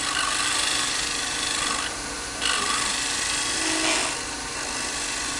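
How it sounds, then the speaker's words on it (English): A woodturning tool takes a light cut across a ridged piece of wood spinning on a lathe, giving a steady close rasping scrape with a couple of brief swells in intensity and no talk. "So I can just take a real light cut with that and move a lot of those ridges off there."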